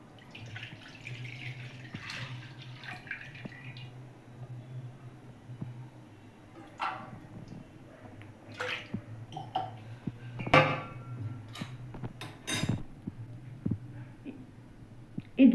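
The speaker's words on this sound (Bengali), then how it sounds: "এবার আমি কড়াইতে দুধ ঢালছি।" About 500 ml of milk poured into a kadai on a gas stove, with soft splashing and dripping plus a few light clinks from the pan. The sound stays quiet and close, with no talking.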